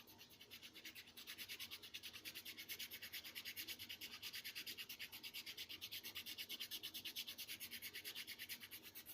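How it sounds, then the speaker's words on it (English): A hand file rasps gunk off a metal ground connection in quick, steady back-and-forth strokes. It is close and continuous for the whole stretch, with no talking. "I just gotta file all this gunk off."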